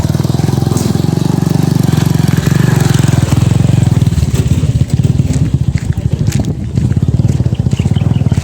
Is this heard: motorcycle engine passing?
yes